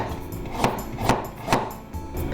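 A knife slices a peeled carrot into thin pieces on a cutting board, with sharp knocks landing in a steady rhythm about twice a second, close and clear with no talk.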